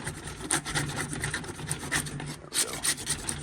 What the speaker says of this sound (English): Scrape her off.